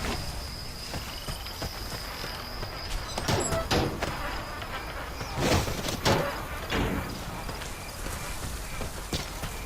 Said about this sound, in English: Are the bees on me?